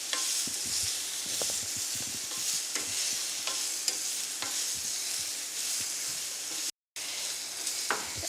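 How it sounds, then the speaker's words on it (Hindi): Capsicum sizzles steadily in a hot pan while a spoon stirs it, giving repeated soft scraping knocks over continuous bright frying hiss, close and moderately loud, with one brief dropout. "इसी के अंदर हम शिमला मिर्च डाल देते हैं। इसे अच्छी तरह हिला लें।"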